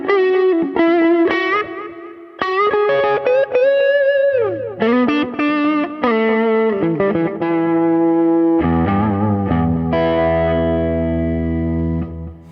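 A clean electric guitar runs through a JamUp Pro chain with tube drive stomp box, reverb, black lux amp, EQ filter and delay, playing bright sustained lead notes and bends with a lingering echoing tail, loud and alone.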